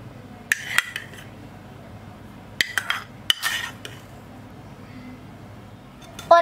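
Spoons clink and scrape against a bowl while curd and face pack ingredients are mixed together, a few sharp separate knocks over a quiet background, close by.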